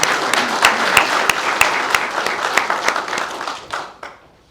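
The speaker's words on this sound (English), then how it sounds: "So let's give him a round of applause." A crowd of people at a State Highway Patrol awards ceremony breaks into a steady round of applause for a Lieutenant Colonel's birthday, dense clapping with a few sharper claps standing out, tapering off near the end.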